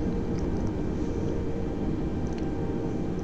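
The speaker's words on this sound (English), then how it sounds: "As we slow down the plane." An A320 airliner in Microsoft Flight Simulator slows on the runway after landing, a steady loud rumbling roar of engines and rolling noise that stays constant throughout, with no talk.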